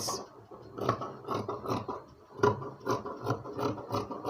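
Fabric trimmed with scissors while cutting an A-line shirt, a close, steady series of crunchy snipping and rasping cuts in an uneven rhythm, with no talk.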